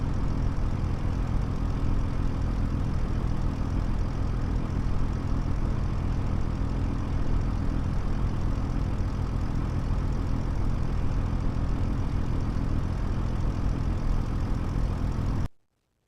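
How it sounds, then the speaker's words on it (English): Tractor engines in the Farming Simulator 25 video game produce a steady, loud, unbroken mechanical drone that holds an even level throughout and then cuts off abruptly at the end. "Now we hear tractors."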